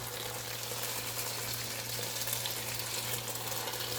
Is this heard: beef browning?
yes